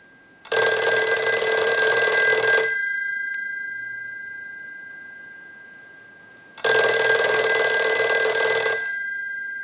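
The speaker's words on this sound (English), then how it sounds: "use the analyzer and send a ring cycle like you were getting a call" A Western Electric 302 rotary desk telephone bell rings loudly in two long bursts of about two seconds each, driven by an analyzer's ring cycle and separated by a quiet pause, with no talking.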